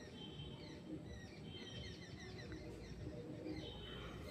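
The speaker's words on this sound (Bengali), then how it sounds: "কীরকম পাখিদের ডাক শুনতে পাচ্ছ? গ্রামে গঞ্জে থাকলেই এই পাখিদের ডাক শোনা যায়।" Many birds call and chirp around a village at sunset, a steady layered chorus of tweets with soft coos beneath, moderately distant and continuous, with no talking.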